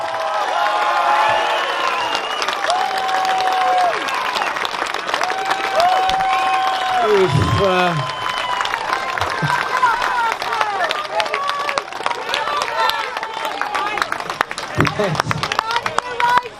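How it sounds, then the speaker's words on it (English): A crowd at a Melbourne protest rally applauds and cheers, with steady clapping, shouts and whistles rising around a speaker's voice amid dense hubbub. "Give her a clap, guys."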